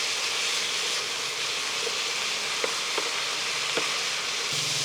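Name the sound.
tofu sizzling in pan while stirring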